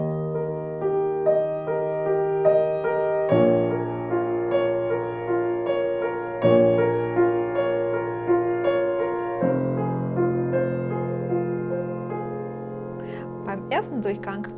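Piano playing the arpeggiated chord pattern of a song, built from three chords, with steady repeating broken-chord figures and bass notes changing every few seconds, clear and close, ending in a brief rustle.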